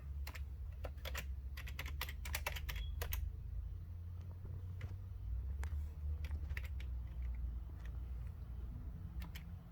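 Someone types on a computer keyboard at a fairly quiet level, with bursts of rapid key clicks separated by pauses over a low steady hum. Nobody speaks.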